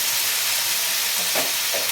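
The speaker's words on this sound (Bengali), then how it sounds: "আলুটা আমার প্রায় ভাজা হয়ে গেছে" Potatoes and ridge gourd fry in hot oil in a pan, giving a steady, close sizzle with soft crackles and faint stirring throughout, with no talking.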